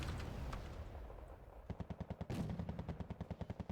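A vehicle in Wargame Red Dragon fires while on the move. A dense roar of gunfire gives way to an evenly spaced string of about fifteen rhythmic shots, faint and distant in the mix.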